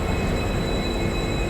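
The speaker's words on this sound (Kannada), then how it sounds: "ಇಲ್ಲೇ ಬಂತು ನೋಡ್ರಿ ಟ್ರೈನ್ ಬಂತು" A train pulling into a station gives a steady, loud rushing rumble close by, a continuous roar of wheels and carriages with no voices over it.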